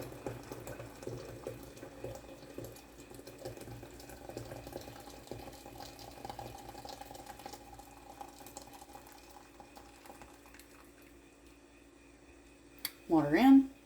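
Boiled water pours into a pot to steep Southern sweet tea, a steady low splashing stream running for most of the stretch at moderate level, ending in a brief louder clatter.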